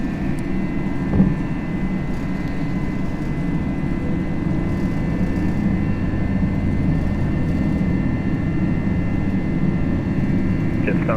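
An FSLabs Airbus A321 in a flight simulator rolls down the runway for takeoff at night, a steady engine rumble running throughout while a voice talks over it.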